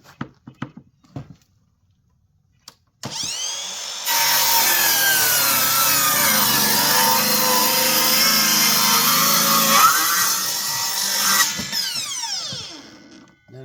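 A battery-powered saw cuts a wooden miter for a box with a loud, steady rasping drone that lasts about ten seconds, after a few clicks of setup and before it spins down.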